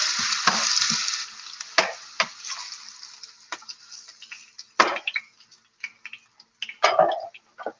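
Pieces of ripe plantain fry in a pot for Jamaican-style plantain chips, a steady soft sizzle that fades over time, broken by sharp clicks and stirring clatters near the end.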